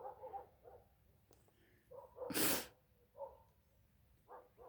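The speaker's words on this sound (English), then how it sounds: "There's dogs on the other street just freaking out this morning. They have been barking since daylight." Dogs bark on a nearby street on a frosty homestead morning, short distant yelps and barks in scattered bursts, with one loud sneeze-like snort close by.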